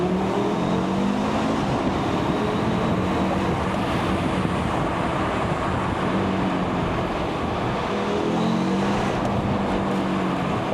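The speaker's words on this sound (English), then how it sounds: "there's still that characteristic 5-cylinder sound" An Audi RS 3 Sportback's five-cylinder engine running through a tunnel, a loud, steady, reverberant roar with constant road and wind noise and no talking.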